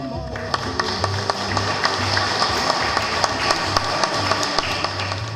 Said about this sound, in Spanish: desearía que reciban un fuerte aplauso a la mesa y a los conferencistas